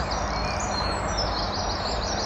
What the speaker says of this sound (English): We've got very loud, noisy wrens on the left, very close. Great tits a little bit further back.